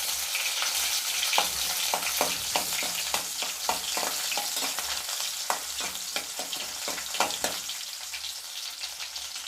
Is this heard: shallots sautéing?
yes